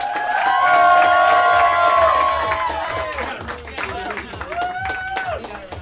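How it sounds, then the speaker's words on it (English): Audience applause and cheering for a stand-up comic at a student comedy showcase. A crowd claps and whoops under loud, sustained shouted voices, and the sound tapers slightly toward the end. "A huge round of applause for Victor Bassett, everybody."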